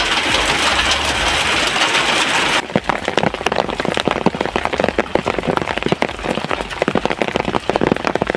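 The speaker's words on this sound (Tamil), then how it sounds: "குன்னூர் அருகே அருவங்காடு, ஜெகத்தலா உள்ளிட்ட கிராமங்களில் அரை மணி நேரத்திற்கு மேலாக ஆலங்கட்டி மழை பெய்தது." Hailstorm with rain near Coonoor in the Nilgiris, first a dense steady hiss of falling rain, then a loud rapid patter of hailstones striking a hard surface close by, with no voices.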